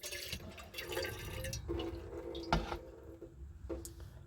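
Water poured from a kettle into a measuring jug for AeroPress coffee, a close, continuous trickling pour with brief drips and clinks, no one speaking.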